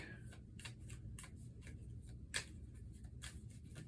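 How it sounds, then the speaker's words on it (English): Cards from a monster deck and a perk deck shuffled for the Horrified Universal Monsters board game, with soft riffling and flicking bursts repeating quietly over a low background hum. "Shuffle that up again."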